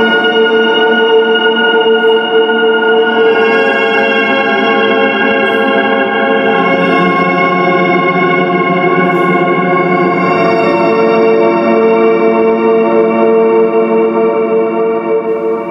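A shimmer reverb pedal turns a guitar into a lush, sustained wash of layered, choir-like tones that rings on loudly and evenly for the whole stretch.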